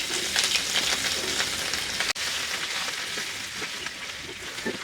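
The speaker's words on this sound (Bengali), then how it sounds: "আমি এখন একটা ফ্রাই প্যানে সরষার তেল ভালো মতো গরম করে এর মধ্যে এখন এই মাছগুলাকে ভেজে নিব" Rohu fish pieces fry in hot mustard oil in a frying pan, giving a steady, dense sizzle and crackle throughout with no talking.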